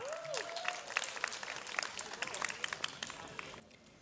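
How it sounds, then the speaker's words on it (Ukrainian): An audience at a festival opening in Lviv claps in a fairly faint, steady patter after a spoken announcement trails off, the applause thinning toward the end. "Ваші оплески!"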